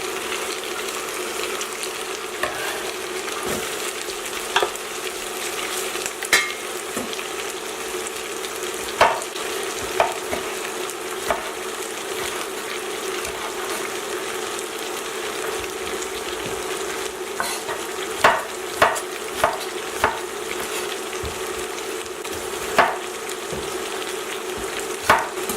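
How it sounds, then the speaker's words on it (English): Garlic sizzles steadily in a hot pan while a utensil stirs and scrapes at intervals, close and continuous with no talking, during preparation of a Filipino-style beef stroganoff. "At this point I'm going to add in my garlic."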